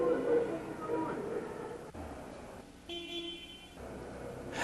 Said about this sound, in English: Sound the horn from a distance and continue this until you gain their attention